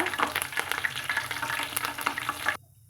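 Drumstick and curry leaves crackle and sizzle loudly in hot ghee, a dense spattering hiss close up that cuts off abruptly near the end.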